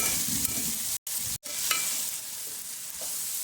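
Pieces of raw jackfruit for panasapattu curry fry in a pan with onions and tomatoes, giving a steady soft sizzle with a few stirring scrapes and two brief silent gaps, no voices.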